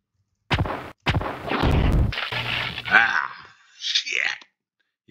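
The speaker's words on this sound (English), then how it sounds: "He cooked me and I got that residual explosion." An explosion strikes the player in the video game Pathways Into Darkness, heard as a series of sharp, loud blasts and crashes with a wailing tone trailing after and a short burst at the end.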